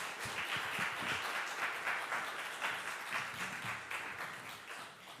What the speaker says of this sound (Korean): 다 같이 박수로 우리 선교사님 환영해 주시기 바랍니다.